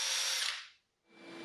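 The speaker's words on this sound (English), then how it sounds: "Then put the screw in your drill and tighten it down." Power drill driving a screw while a custom router baseplate is made: a loud high whine that winds down to silence, then spins up again close by.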